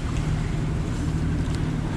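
Sailboat engine running while crossing the Ionian Sea, a steady low drone under broad wind and water rush, continuous and loud throughout with no voices.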